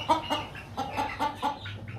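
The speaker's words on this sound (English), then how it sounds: "Charlie, what kind of chicken is that? An Easter egg." Several backyard chickens cluck and murmur in their coop in a quick run of short, close clucks. Softer rustling and low farmyard background fill the gaps between them.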